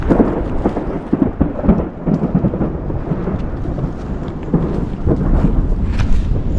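Low thunder rumbles on and off beneath steady monsoon rainfall in a forest, a deep rolling storm noise filling the whole stretch.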